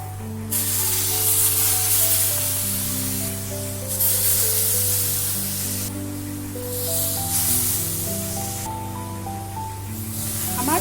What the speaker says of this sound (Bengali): এইবারে দিয়ে দেবো দুধ